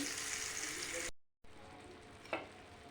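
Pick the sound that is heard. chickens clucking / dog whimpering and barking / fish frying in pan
fish frying in pan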